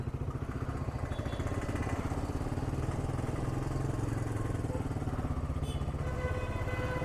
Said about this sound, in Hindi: मैं बाइक को ऑन करता हूँ एंड आई स्टार्ट